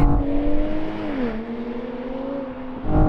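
A BMW M5 V10 Touring and an M440i accelerate hard in a drag race, a loud droning engine tone that climbs, dips at a gear change, then holds and rises again, close and unbroken, without talk.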